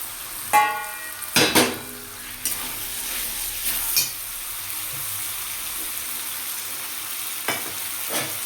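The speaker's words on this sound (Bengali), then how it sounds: "এবার আগে থেকে ভেজে রাখা পনিরটা, ঘিয়ে ভাজা পনিরটা দিয়ে দেবো" Ghee-fried paneer tumbles into a pan of cooked-down vegetables, with a steady sizzle under sharp clattering stirring strokes and occasional spoon knocks against the pan.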